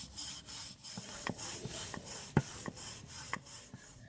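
A rolling pin rubs and rasps over maida dough on a board in repeated short, soft strokes, a quiet rhythmic scraping with occasional light taps.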